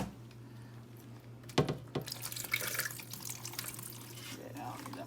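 Tap water pours and splashes into a pot while lobster tails and shrimp are prepared for a seafood boil, a sudden splashy burst followed by uneven trickling and dripping, with faint background hum.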